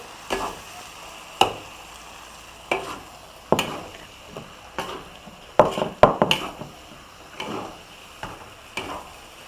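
Pad see ew noodles being stir-fried in a pan, scraped and tossed with repeated sharp clacks of a utensil against the metal, separated by irregular pauses over a soft steady sizzle, close by with no talking.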